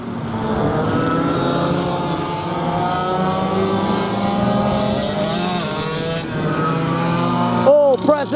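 Clubman Heavy retro go-karts at the 2025 Retro Karting Australia SA State Titles roll out on a first sighting lap, their engines a steady layered drone beneath continuous commentary, with a sharper rev swelling near the end.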